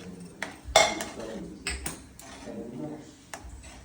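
A spoon clinks against a pot while stirring turmeric and red chili into moong soup, with a few scattered metallic taps and scrapes under a quiet speaking voice.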